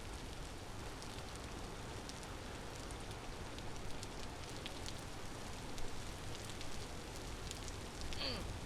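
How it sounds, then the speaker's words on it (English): Steady rain falling in the survival game Vintage Story, a soft, even patter and hiss throughout with slightly louder patches near the end and no talking. "Soaking wet. And sleeping in the rain on a grass bed."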